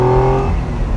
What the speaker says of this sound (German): das ist ein ganz drehfreudiger Sechszylinder